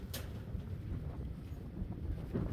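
Steady wind on the mountaintop of Elliott Knob buffets the microphone with a low, continuous roar and no other distinct sounds.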